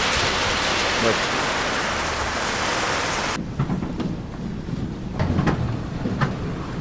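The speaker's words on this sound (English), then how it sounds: "Rain came down too hard." Heavy rain pours down hard in a steady, dense roar on a Nicaragua trip, loud throughout, briefly easing as the sound changes partway, with distant rumbles underneath.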